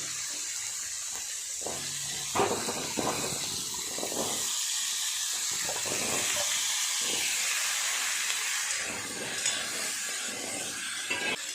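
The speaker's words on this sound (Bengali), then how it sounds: "এই তেলেই সবজিগুলো ভেজে নেব, আলু আর ওল।" Chunks of potato and elephant foot yam fry in oil, giving a steady close hiss and sizzle broken by occasional bursts of crackling and clattering.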